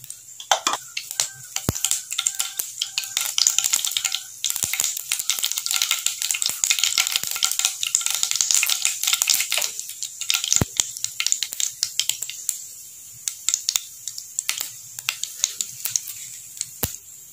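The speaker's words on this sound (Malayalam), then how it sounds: "കടുകൊന്ന് പൊട്ടിക്കഴിഞ്ഞിട്ടുണ്ട്." Mustard seeds popping in hot oil for a Kerala squid masala, a rapid crackle of sharp pops over a soft sizzle, close and busy throughout with no talking.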